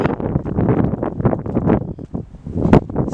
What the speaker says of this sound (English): Sorry for the wind in the camera.